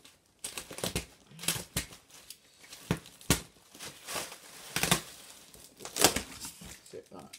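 Packaging being cut off a Numatic vacuum cleaner, with irregular sharp snips, tearing and crinkling plastic in close bursts.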